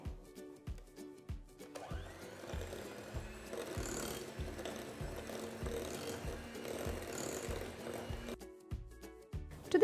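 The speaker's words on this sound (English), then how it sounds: "Next, I'm going to add 1 large egg and start whisking it." An egg is whisked into cookie batter in a bowl, giving a quick, even run of soft tapping and swishing strokes, close and fairly quiet, with a few louder knocks at the start and end.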